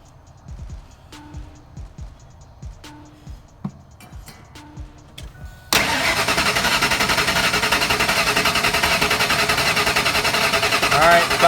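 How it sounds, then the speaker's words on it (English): A Ford Lightning truck engine cranks during a compression test, a sudden loud, continuous rhythmic churning that starts partway through after a few scattered clicks and clanks, then holds steady to the end. "floor it and crank it"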